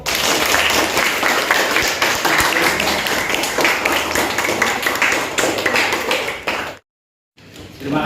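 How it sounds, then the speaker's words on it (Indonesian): Sustained applause and clapping from a classroom of students honoring a presenting group in an Islamic religious education teaching session, dense and steady for several seconds before cutting off abruptly, then resuming briefly. "Tepuk tangan untuk kelompok 1."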